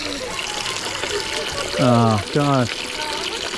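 Water runs out of a water station in the Philippines as a continuous splashing, trickling flow under a background hiss, while a person briefly exclaims nearby.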